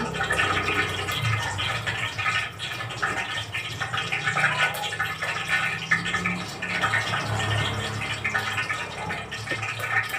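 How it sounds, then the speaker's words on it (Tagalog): Hot cooking oil mixed with water in a cooking pot, crackling and sizzling noisily in a steady, continuous hiss without pauses. "maingay na ang aking mantika. May halong tubig. Maingay."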